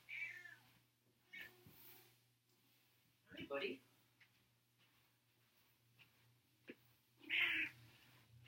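An indoor domestic cat meows twice, a few seconds apart, close to the microphone, with the second meow louder and higher, while a person speaks a quiet greeting.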